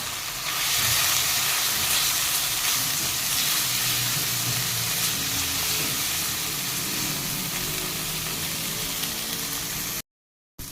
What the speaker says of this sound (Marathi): आता त्याच्यामध्ये आपण हा चिरलेला कांदा घालूया हळद घालूया आणि एखाद दोन मिनटं आपण हे परत परतून घेऊयात